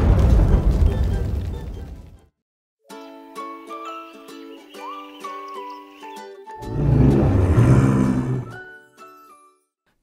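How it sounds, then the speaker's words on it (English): A cartoon dinosaur laboratory blasts into fragments with a loud, crashing burst, then a stretch of bright, tinkling tones, then a second heavy roaring blast that fades out. "Soon after the dinos safely left the laboratory, it blasted into fragments."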